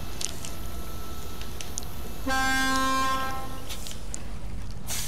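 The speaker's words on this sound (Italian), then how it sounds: "Ha un clacson meraviglioso questo Derry Longhorn." The horn of a Derry Longhorn truck in the SnowRunner video game blares once, a single sustained brassy blast of about a second and a half, loud and clear over a steady engine drone.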